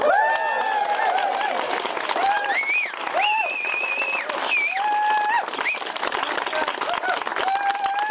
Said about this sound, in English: I'm glad to hear all that clapping